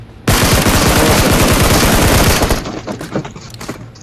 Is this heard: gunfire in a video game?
yes